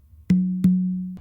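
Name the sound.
two open tones on the tumba conga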